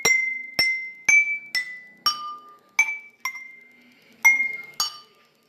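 A water-filled glass cup is tapped nine times in an uneven rhythm, each strike a clear, close ringing clink that decays briefly before the next.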